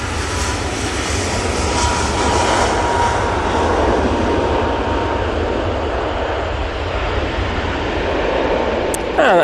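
Jet2 Airbus A321neo starting its takeoff roll at Manchester Airport, its engines a loud, steady roar that holds without a break, heard from a spotting position.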